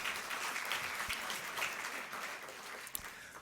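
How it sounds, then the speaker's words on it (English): Steady applause from an audience at a luncheon, a dense wash of clapping hands that holds at an even level throughout, heard from some distance. "Give that a round of applause, definitely."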